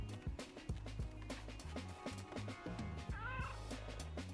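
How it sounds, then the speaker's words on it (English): Cats meow in the video game Powerwash Simulator 2, a short wavering mew rising above a busy mix of rhythmic pressure-washer spray and game background sound. "Did we leave the kittens at home?"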